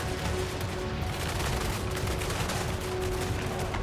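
Handgunner units fire in a Total War: Warhammer 3 battle, a dense, continuous crackle of massed gunshots that stays loud and unbroken throughout.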